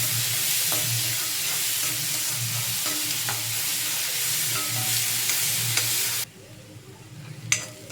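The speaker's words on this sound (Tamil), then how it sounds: "வெங்காயம் இது எல்லாத்தையும் நல்லா வதக்கி விட்டுருவேன்" Onions with chili sautéing in a pan, a steady loud sizzle with stirring scrapes that cuts off abruptly near the end, leaving a faint clink.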